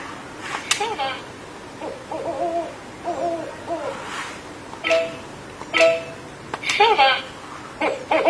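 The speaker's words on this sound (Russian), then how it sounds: "Сова." Owl hoots from a Giraffe YS2606B educational learning card reader toy, several short hooting calls repeated between spoken words in Russian, close and fairly loud.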